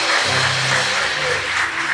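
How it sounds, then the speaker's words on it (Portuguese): A church congregation claps together during a worship service, a steady, close wash of applause that holds evenly for the whole moment without a break. "Aplauda bem forte o nome de Jesus."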